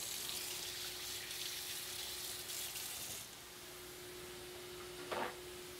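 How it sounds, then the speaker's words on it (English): A kitchen tap runs under a knife being rinsed, a soft, even stream of water with a brief splash near the end, faint and steady with no voices. "I'm gonna wash this knife real quick"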